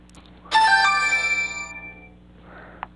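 A mobile phone ringtone sounds for an incoming call from an unknown number: a loud melodic electronic tone rising suddenly, ringing for about a second and a half, then fading, with a faint brief chirp near the end.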